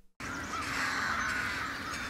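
Many crows cawing together in a dense, continuous chorus of harsh calls, filling the scene after a brief silent moment.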